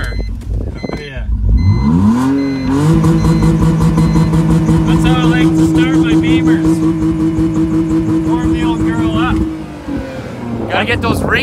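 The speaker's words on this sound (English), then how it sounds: "All right, let's get the Beamer going." A BMW car engine cranks over, catches and then revs hard and steadily, rising from a starter whine into a loud, sustained roar with falling and climbing revs near the microphone, while people talk over it.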